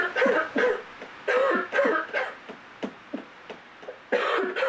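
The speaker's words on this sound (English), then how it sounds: "an audience member coughing" An audience member coughs repeatedly in short, harsh bursts with some throat clearing, close by and fairly loud, with quiet gaps between coughs.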